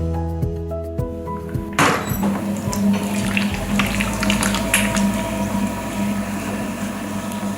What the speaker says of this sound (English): That's the sound of a pottery wheel